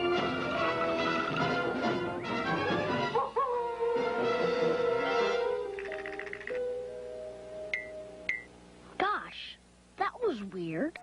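Dog barking, whimpering and drawn-out howling from the video game Nightmare Ned, mixed with musical tones and voice-like sounds; the howls rise and fall near the end of the stretch.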